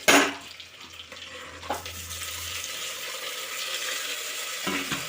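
Ground onion, tomato and green chilli paste sautéing in a clay curry pot, a steady soft sizzle with stirring, louder at first then settling into a continuous fry.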